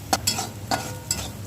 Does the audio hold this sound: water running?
no